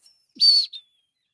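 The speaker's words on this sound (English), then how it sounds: "I start whistling through my teeth" A person whistles through their teeth, giving a short, thin, high whistle that swells, holds briefly, then ends with a quick second chirp, alone in near silence.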